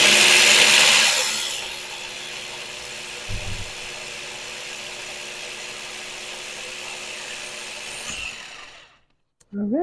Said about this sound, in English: I'm just going to give it one more little blend